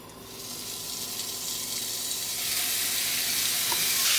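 Chicken pieces for wraps sizzle loudly in a hot frying pan, a dense crackling hiss that grows stronger and steadier over the seconds.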